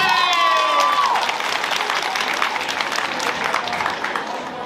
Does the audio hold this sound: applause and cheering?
yes